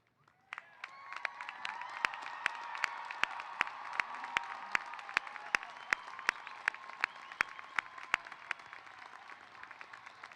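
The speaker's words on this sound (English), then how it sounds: "would you please cheer and stand if you are able?" Graduates at a college business school commencement cheer and applaud, a dense sustained wash of clapping with whoops and shouts rising over about ten seconds, a large crowd heard from some distance with sharp claps punctuating throughout.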